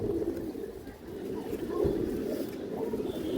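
A pigeon of an old breed, kept among fancy pigeon varieties, coos in low, throaty, repeated murmurs close by, a continuous rolling burble with no talking over it.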